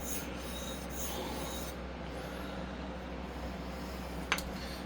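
A straight razor blade slides over a sharpening stone in steady rubbing, rasping strokes, quiet and close, with a small click near the end.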